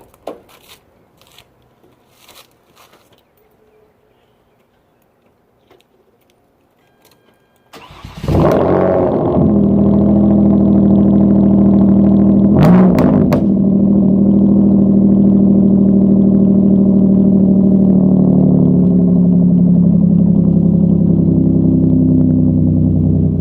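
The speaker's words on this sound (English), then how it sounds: "Alright, let's get a little cold start action." A Hyundai Genesis Coupe with a custom exhaust cold-starts with a loud crank and catch, then settles into a steady, loud idle, with a short sharp rev blip a few seconds later; faint clicks and rustles precede the start.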